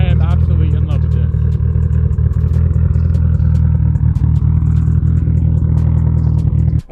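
A Mitsubishi Evo X with an ETS turbo kit and a new exhaust system idles close by with a loud, deep, steady rumble and rapid clattering pops, as a voice talks over it.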